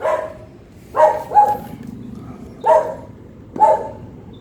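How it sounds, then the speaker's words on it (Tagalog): A dog barks four times at close range, loud and spaced apart, with a short double bark in the middle and no talk. "ang ingay ng aso"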